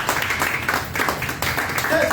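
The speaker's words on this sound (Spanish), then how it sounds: "A dar un aplauso a Jesús." A church congregation applauding during a Spanish-language sermon, with a dense wash of clapping under loud voices throughout.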